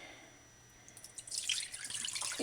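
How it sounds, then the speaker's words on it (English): Dirty water from a Hoover Floormate floor cleaner's tank starts with a few drips and then breaks into a steady splashing pour, close by, with no talking. "There it is, the dirty water."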